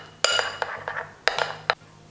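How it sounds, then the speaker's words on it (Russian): A spoon scrapes and clinks against a bowl while stirring a sauce of heaped sour cream and grain mustard. Several distinct metallic taps and scraping strokes come in uneven bursts over a low steady hum, close up, with no talking. "Хорошенечко это все перемешиваем."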